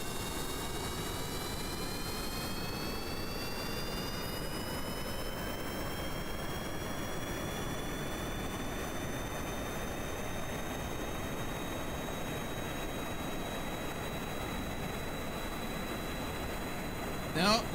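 A rocket engine roaring at full throttle in the game Kerbal Space Program, a loud continuous broadband rumble with a slowly rising whine layered on top, holding steady throughout.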